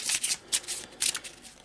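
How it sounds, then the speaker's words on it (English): A deck of cards for the Eldritch Horror board game is shuffled by hand in a few quick riffling bursts, close and crisp, with no one talking. "Give it a shuffle"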